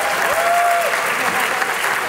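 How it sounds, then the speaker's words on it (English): A live audience at an a cappella invitational concert breaks into loud, sustained applause, dense and steady throughout. "So give them up a round of applause there."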